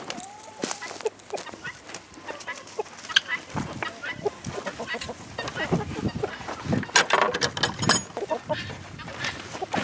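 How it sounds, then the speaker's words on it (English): Hens cluck and squawk in short bursts close by as they escape their pen, with scattered rustling and a person talking intermittently among them. "it looks like we've got hens escaping all over the place now"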